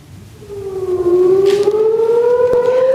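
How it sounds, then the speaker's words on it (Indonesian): A civil defense air raid siren in Tel Aviv, heard during an Iranian air attack, rises in a long loud wail and then holds a high sustained tone, close and dominant, with no voices. "warga Israel ketakutan saat sirine meraung di udara"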